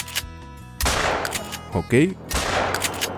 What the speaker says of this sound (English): I wanna shoot them on the air, so gonna shoot that one first.